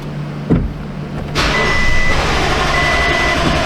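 A Toyota engine cranks with a short sharp cough early on, then a rough, steady rumble carries on nearby, with no voices.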